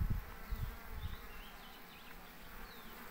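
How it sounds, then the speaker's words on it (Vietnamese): Dense, steady buzzing of many honeybees swarming around an opened hive full of young bees hatching, close and continuous with a few louder low surges early on. "Ong non rất là nhiều các bạn, toàn ong những lớp ong trẻ đang nở ra rất là nhiều rồi"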